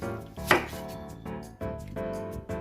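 A Teskoma santoku knife chops through onion on a cutting board in a few distinct, crisp strokes, one sharp knock standing out, close and clear with no talking.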